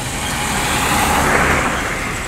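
A PO Handoyo bus speeds past at close range, its engine and tire noise forming a loud, broad roar that swells and fades briefly.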